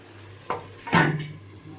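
A lid is set onto a pot of cooking potato and pointed gourd curry: a light metallic tap, then a louder clattering clank as it settles, over a quiet kitchen hum.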